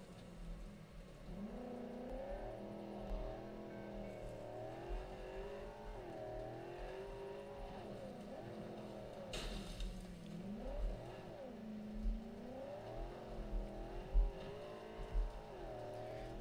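Car driving around in Cyberpunk 2077, a steady engine hum with wavering pitch as it speeds up and slows down, held at a constant moderate level throughout with no one talking.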